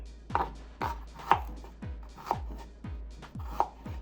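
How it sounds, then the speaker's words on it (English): Knife chopping ginger finely on a cutting board while preparing garlic shrimp in coconut milk: about five evenly spaced, sharp, close chops with no talking. "Now I'm going to cut a little piece of ginger."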